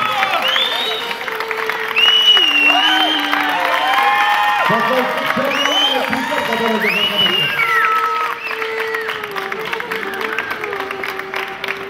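Wedding guests applaud and cheer at a Turkish wedding from Rize and Bafra, a dense crowd clapping steadily throughout while music plays and an announcer speaks over the noise.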